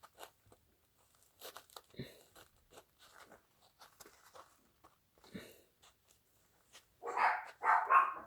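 Dogs barking nearby in two loud, close bursts at the end, after a stretch of quiet rustling and crinkling handling noises.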